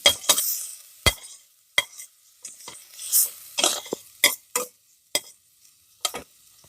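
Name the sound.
ginger garlic paste stirred into the pan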